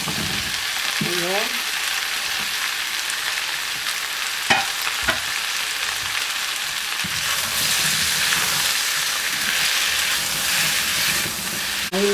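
Zucchini and celery sizzle and hiss in a hot pan for a vegetable stir fry, with steady frying noise, a few sharp clinks of a utensil stirring, and a brief spoken word over it.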